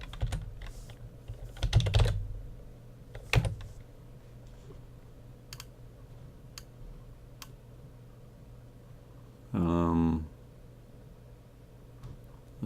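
Typing on a computer keyboard, heard as scattered quiet key clicks, a few louder bursts of keystrokes and one short clattering run, close-up in a quiet room with no speech.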